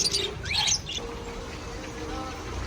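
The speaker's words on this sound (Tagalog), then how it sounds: "Daming lovebirds." Lovebirds chirping in a Baguio market stall, a few bright, quick tweets and squawks in the first second, then fading into low background murmur.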